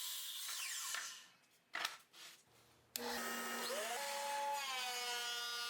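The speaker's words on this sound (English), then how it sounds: "So I'm cleaning it up by sitting it through the planer" Thickness planer milling an 8-quarter ash board, a loud close whine and roar with pitch shifts as the board feeds through, starting after a brief break with softer knocks.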